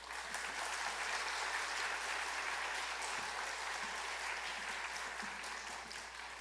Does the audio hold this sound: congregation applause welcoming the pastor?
yes